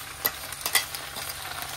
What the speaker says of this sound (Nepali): अब यसमा आलु धेरै देरदेखि फ्राई गरेको थिएँ अब यसमा यो बनाएको मसला जो छु यो राखिदिँदैछु